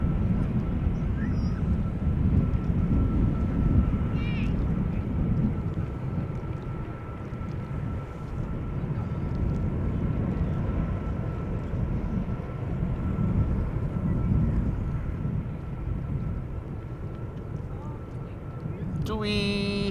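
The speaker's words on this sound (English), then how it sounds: "It's also sounding like another heavy taking off from the center runway." A heavy jet takes off from the center runway at Schiphol Airport, heard as a sustained broad low roar of engine noise throughout, fairly loud and steady, with a faint tonal whine above it.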